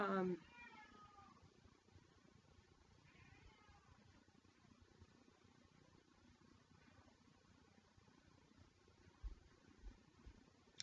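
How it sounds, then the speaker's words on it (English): A cat meows and yowls in a drawn-out, singing way near the start and again briefly a few seconds later, over a quiet room hum, with a few soft knocks toward the end. "It's hard to think with the cat singing."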